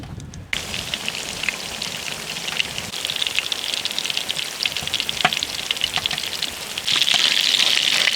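Goby fish cutlets fry in a pan with a steady crackling sizzle, like rain on a surface, punctuated by sharper pops, swelling louder near the end.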